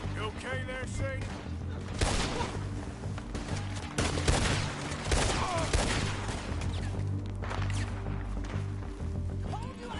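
Gunfire in the video game Red Dead Redemption 2: a fast fusillade of sharp shots and cracks, close and loud, scattered throughout over a low in-game background hum.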